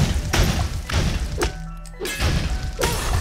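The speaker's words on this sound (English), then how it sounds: "Just keep placing bombs around them." Bombs blast around enemies in the video game Ittle Dew 2, several heavy thuds and crashes in quick succession at a steady pace, loud and close with no talk.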